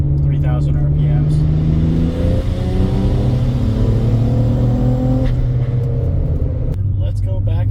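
A BMW N54 engine pulls hard in third gear from 3,000 RPM, a loud steady drone rising in pitch for several seconds before easing off, with a voice talking over the engine near the start and end.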